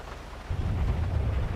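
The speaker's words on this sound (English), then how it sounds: "Yep, there's that thunder." Thunder rolls during a rainstorm in the GTA 5 video game, a low rumble that swells suddenly halfway through and stays heavy over a steady wash of rain, with no voices.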